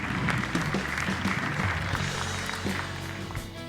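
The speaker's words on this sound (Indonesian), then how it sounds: "Tepuk tangan untuk Dani." Audience applause for a contestant in an Indonesian talent competition, a crowd clapping steadily under a low musical backing, gradually easing toward the end.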